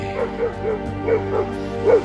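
A Polish hunting hound barks and whimpers repeatedly at close range, with short rhythmic yips spread over about two seconds and no voices in between.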